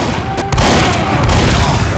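Rocket explosions in the Team Fortress 2 game, a loud continuous wash of booming blasts with a couple of sharp hits near the start, no voices.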